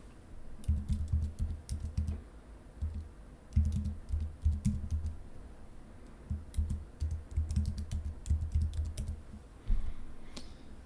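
Keys clatter on a computer keyboard in quick bursts of typing separated by short pauses, close and fairly quiet, as an email address is entered with no voices.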